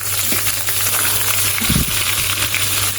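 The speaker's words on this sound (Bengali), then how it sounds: "এখন ভুড়িটা দিয়ে হালকা হালকা ভাবে ভেজে ভেজে নেব" Tripe frying lightly in a pan with dried chillies, a steady close sizzle and hiss with a few soft stirring clinks partway through.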